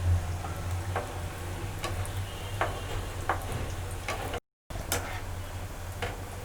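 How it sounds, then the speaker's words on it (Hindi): Khajoor dough deep frying in hot oil gives a steady, busy sizzle with scattered sharp pops and crackles, close by and alone apart from a brief dropout. "अब मैं इसे डीप फ्राई करूँगी"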